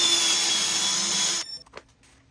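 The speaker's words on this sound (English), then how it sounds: "put some of this white diamond compound from the Beal system onto a buffing wheel and buff that as well" A power-driven buffing wheel polishing oak with white diamond compound gives a steady high whir that cuts off abruptly, followed by a few faint knocks as it stops.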